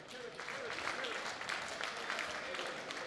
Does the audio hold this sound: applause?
yes